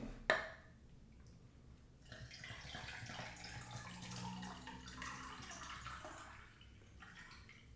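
Bottled water poured into a U.S. MRE Menu 4 beverage bag, a steady soft trickling and splashing with faint sloshing, close and fairly quiet, running for several seconds after a brief bump at the start.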